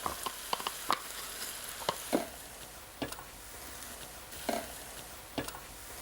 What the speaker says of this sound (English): I give that a good stir